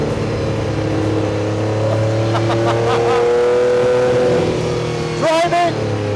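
A Porsche Group C Le Mans-winning race car drives with a loud, continuous engine drone whose pitch climbs and shifts as it accelerates, with a sharp rev burst near the end.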